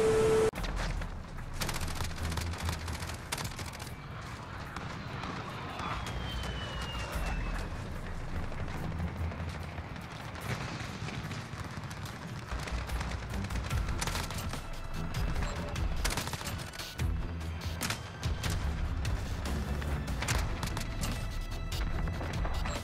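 A RAM-7 assault rifle in Modern Warfare fires at a very fast rate, giving dense, continuous bursts of gunfire with crashes and booms from the match mixed in, loud and unbroken throughout.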